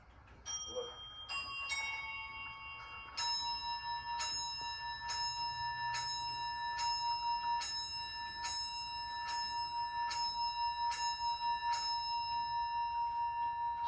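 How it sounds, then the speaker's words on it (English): An 18th-century tall case clock with a Montgolfier brothers theme strikes the quarter hour. Clear, ringing bell tones repeat in a steady sequence of more than a dozen strikes, each one decaying slowly into the next, close and fairly quiet. "this is your quarter hour strike here."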